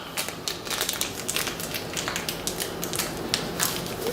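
Crinkly plastic packaging of ground beef being worked open, a dense run of crackling and crumpling rustles close by with small tapping snaps, steady throughout and without talk.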